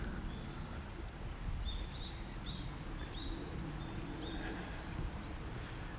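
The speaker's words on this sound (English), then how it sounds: "and birds are singing, and it's morning." Birds chirp and call in short high bursts in the morning along a riverside cycling route in Japan, light and moderately distant over a steady low outdoor rumble.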